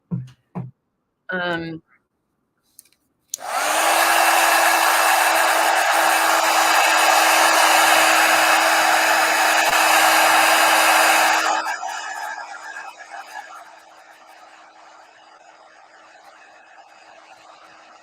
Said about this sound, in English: I'm going to hit him with the heat gun real quick so I can go over that white